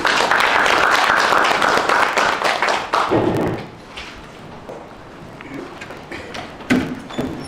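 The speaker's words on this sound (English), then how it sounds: "A round of applause for you" Loud clapping from a media conference audience greets the National Science Center Director, dense for about three seconds, then fading to scattered claps and light thumps.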